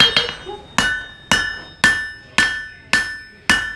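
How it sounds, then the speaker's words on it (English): A hammer strikes one side of a steel knife blade to straighten it, at a blacksmith setting in Wild West City, Netcong, New Jersey: seven sharp, ringing metallic blows at a steady pace, loud and close, with no talk. "I'm hammering at an angle."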